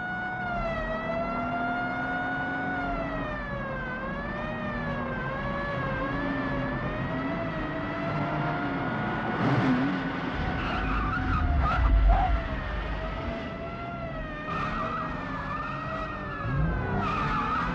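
A police car's wailing siren rises and falls continuously over roaring engines, with tyres skidding and screeching near the middle and end during a car chase from a 1976 Italian TV drama.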